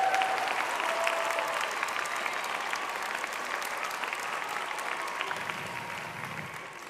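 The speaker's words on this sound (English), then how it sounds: "I think they deserve a warm applause" A room full of people at a medical conference's opening talk claps warmly and steadily, a dense, even wash of applause that fades slightly toward the end.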